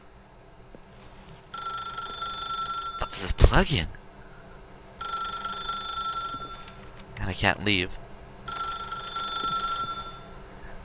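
A telephone rings in the video game The Stanley Parable: three bright, repeating electronic ring bursts spaced a few seconds apart, while someone talks and reacts loudly between and over them.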